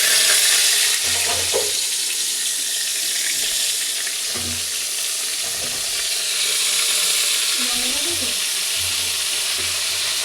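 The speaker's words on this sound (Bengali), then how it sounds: "প্রথমে আলুটা ভেজে নেব" Potatoes frying in a pan for a chicken dish give a steady broadband sizzle, with occasional clinks and a spatula scraping now and then, close by and without voices.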